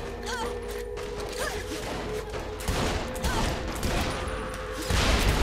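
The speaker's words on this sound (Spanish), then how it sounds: "¡Esta explosión, tío!" Explosion and gunfire bursts in Saints Row The Third gameplay, with crackling blasts and mechanical clatter rising toward the end amid continuous game noise.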